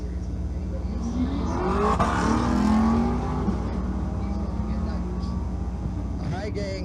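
Race cars running on the track at Twin Cities Raceway in Monroe during a race week event, a loud continuous engine roar rising and falling as the cars pass close by, filling the whole clip.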